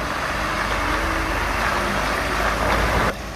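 A dumper truck's engine idles loudly and steadily at close range while the truck is loaded from a riverside bank in light rain, then cuts to quieter ambience near the end.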